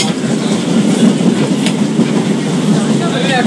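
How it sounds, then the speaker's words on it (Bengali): A local train running from Sealdah toward Namkhana, steady loud rumble and rattle of the carriage from inside, constant throughout with faint clicks and squeals of wheels on track. "শিয়ালদা থেকে চড়ে বসলাম নামখানাগামী লোকালে।"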